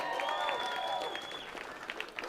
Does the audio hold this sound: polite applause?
yes